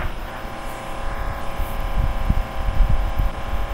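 A video game car engine in Madalin Stunt Cars 2 drones steadily with a nitrous oxide boost, a continuous rumbling roar that swells slightly toward the end.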